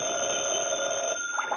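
A telephone rings in an office in an old radio drama, a steady, loud electric bell tone that holds continuously and then breaks off.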